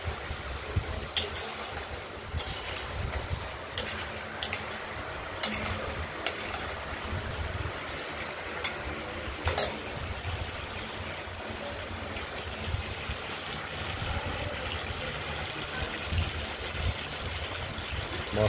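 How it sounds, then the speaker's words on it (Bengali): Spice paste frying in a pan for a katla fish and potato curry gives a steady, close broadband sizzle with scattered sharp crackles and pops, heard alone without talk. "মশলাটা কষে আসছে, এখনো হয়নি পুরোপুরি, আর একটু সময় লাগবে।"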